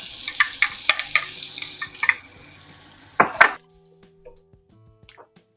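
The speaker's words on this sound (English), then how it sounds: "Then I'm gonna add our onions." Diced medium onion dropped into about a tablespoon of hot olive oil, a brief sputtering sizzle with clattering and scraping as the pieces hit the pan, a sharp rattling burst, then near quiet with faint crackles.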